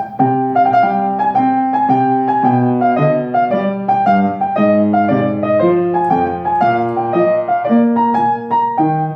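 A keyboard plays a lively melodic phrase from Purcell's Ground in C Minor with a bouncing, uneven dotted long-short rhythm, notes crisp and clear, no voices.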